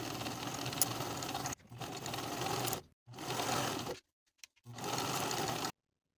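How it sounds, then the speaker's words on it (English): Sewing machine stitching a skirt's facing to its lining with a 3/8 inch seam, running in three steady bursts separated by short pauses, close and alone with no talking. "we'll sew the facing to the lining with a 3/8 inch seam allowance from one side straight across to the other"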